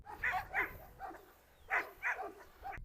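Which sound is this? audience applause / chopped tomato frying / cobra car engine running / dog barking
dog barking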